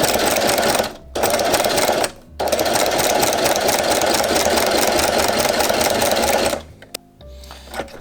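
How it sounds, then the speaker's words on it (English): A sewing machine stitches leather apron pieces in long continuous runs, loud and close, broken by two brief pauses early on and stopping near the end with a few small clicks. "So I'll sew all of these interconnecting bits first"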